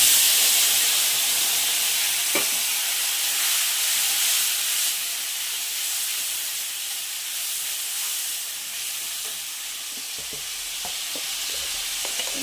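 Spice paste of ground cumin, tomato, chilli, ginger, garlic and onion sizzling in hot oil for a pointed gourd dish, a steady close hiss and crackle with a few stirring knocks, no talking.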